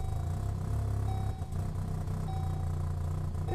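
Chevrolet Malibu Classic with a cracked exhaust manifold running at a steady idle, a low rumbling engine drone that holds continuously and close, briefly dipping once before settling back into an even idle.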